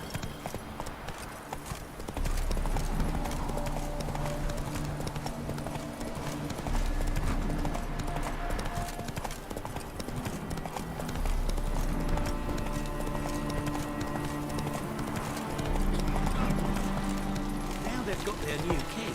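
Hooves clip-clop in a steady galloping rhythm as a horse runs in The Witcher 3, with a continuous low rumble and game ambience beneath; a voice talks over part of it.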